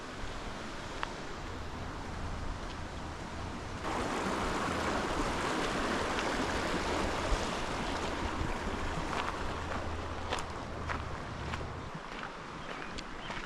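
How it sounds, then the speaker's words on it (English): A river flows in Capitol Reef, a steady broad rushing wash of water that swells louder midway, heard outdoors with light wind noise and no talk. "Here's the river."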